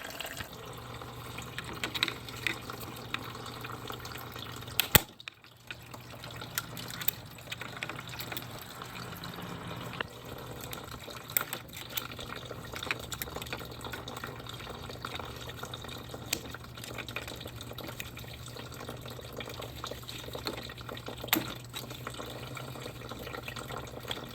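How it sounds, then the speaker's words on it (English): Coolant drains from the radiator of a Dodge Dart with a 2.4L engine, a faint, continuous trickle and dripping of liquid under scattered small clicks and knocks of nearby work, with one sharper bump early on. "while we're waiting on that to drain"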